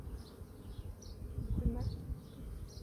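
Honeybees buzz around an opened hive during an inspection, a low droning hum with a louder swell midway and faint higher insect whines drifting past.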